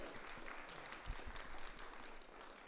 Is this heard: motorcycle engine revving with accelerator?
no